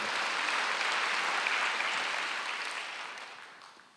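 A congregation claps together during a Wednesday evening church service, a dense, steady wash of applause that gradually fades toward the end.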